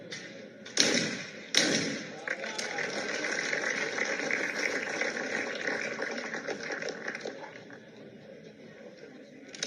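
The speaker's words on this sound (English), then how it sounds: "That's Antonio shooting really nicely." Shotguns fire at skeet clay targets in a women's final at the 2019 Summer Universiade in Naples: two sharp, loud reports about a second apart, followed by outdoor ambience as a commentator talks.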